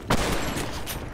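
A quick burst of pistol fire in the game BlackShot, sharp pops close together over a busy background, lasting about a second.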